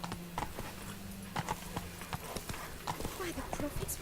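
Horse hooves clip-clopping at a gallop in Witcher 3, the steady rhythmic beats sounding close under a constant game ambience, with a low sustained tone running beneath.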